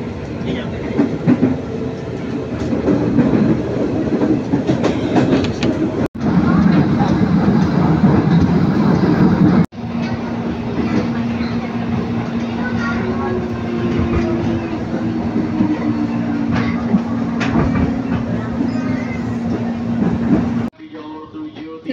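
A commuter train runs from Depok toward Rangkasbitung station with a steady rolling rumble, clickety-clack and a long low hum inside the carriage. A few abrupt cuts break it up, and a voice speaks at times.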